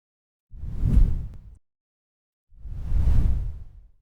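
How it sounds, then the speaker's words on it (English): Sonified plasma waves around a comet, where its forming atmosphere meets the solar wind, give two separate swelling, airy whooshes, each about a second long and rich in low rumble, with silence between them. "The comet's song is the sound of its own atmosphere being born and simultaneously fighting with the solar wind."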